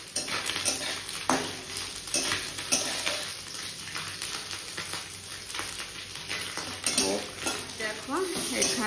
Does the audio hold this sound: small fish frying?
yes